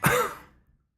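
A single short, harsh cough from a donkey, close and fairly loud, tailing off within about half a second with no talk around it.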